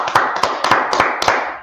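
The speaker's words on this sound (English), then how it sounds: "Let's clap it up for the Lord." Hands clapping in a church class, a handful of sharp, fairly loud claps in a loose, uneven rhythm, close by, with no talking.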